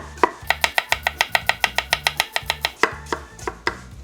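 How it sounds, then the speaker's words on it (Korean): A knife slices Korean melon thinly on a cutting board. Sharp, even chops land about five or six per second with brief pauses, crisp and close, and no voices are heard. "최대한 얇게 얇게 썰어서 준비해 줄게요."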